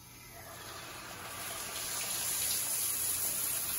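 Hot water from a shower running through a newly installed Starline International water filter, a steady broadband rush that builds slightly in strength and holds continuously, with no voices.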